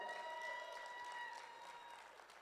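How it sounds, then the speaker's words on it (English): An audience at a leadership summit applauds a city mayor with a brief burst of continuous clapping that fades slightly toward the end, heard at a distance with no speech. "Let's give him a round of applause."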